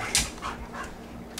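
A chubby dog being bathed gives short whimpers and panting breaths, close and fairly quiet, with one brighter yelp-like burst near the start.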